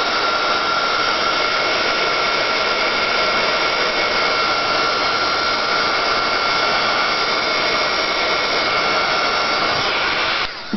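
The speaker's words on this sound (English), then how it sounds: "Going to hit this with the dryer real quick." Hair dryer blowing over wet paint on a pear painting done in raw sienna, burnt umber and quinacridone gold, a loud steady close whir running unbroken for about ten seconds before cutting off.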